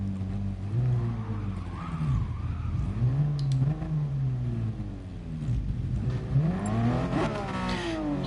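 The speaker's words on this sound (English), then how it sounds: "You can hear my car revving." Car engine in a PS4 racing game played with a Logitech G29 wheel, revving up and down repeatedly with rising and falling pitch sweeps, loud and close, with a brief tyre skid.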